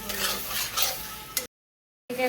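Meat and onions stir-fried in a pan for kosha, giving a continuous sizzle with stirring scrapes, then a brief silence before the frying resumes.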